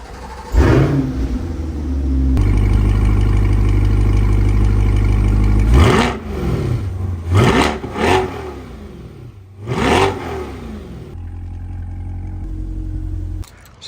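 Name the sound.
Chevrolet C8 Corvette engine cold start revving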